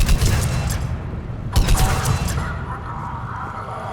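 Gunfire in the video game Mass Effect 3, a burst of loud shots with two sharp heavy blasts amid a rattling fusillade, fading into a lingering rumble.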